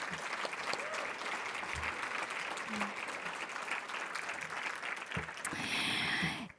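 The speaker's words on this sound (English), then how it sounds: "Let's give them a round of applause for all the work that they do." An audience at a pro-life benefit event gives a sustained round of applause, a dense, steady clatter of many hands that holds at an even level, with a brief voice near the end as it fades.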